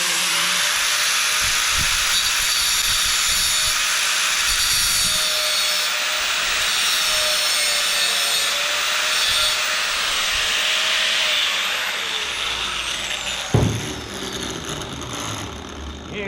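A grinder working a part on a 1968 GMC to cut a flat spot, a loud sustained hissing grind that carries on steadily before tapering off with a clank near the end.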